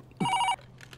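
A telephone in a dubbed South Indian film scene rings with one short electronic trill burst, crisp and fairly loud against a quiet background.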